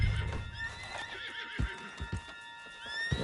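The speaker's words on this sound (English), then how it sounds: "on the back of John's horse" A horse whinnies with a rising, wavering neigh while its hooves clip-clop in a few close, uneven beats.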